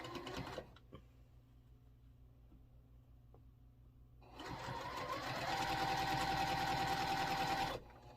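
A sewing machine chain-pieces quilt block units with a quarter-inch seam, starting with faint quiet handling, then a loud steady mechanical whirr of continuous stitching for several seconds before it stops.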